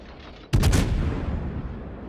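A single loud, close naval gun salvo in the World of Warships game, fired from the heavy cruiser Des Moines, bursts out of a quiet hum and booms into a long, slowly fading rumble.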